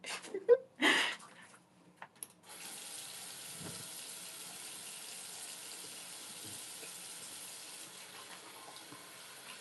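Cold tap water runs steadily into a sink during face washing, a soft, continuous stream heard after a few brief handling noises at the start.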